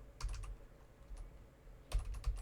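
Keys on a computer keyboard are tapped in two short, quick bursts separated by a pause, entering a formula with parentheses; the clicks are close and fairly quiet.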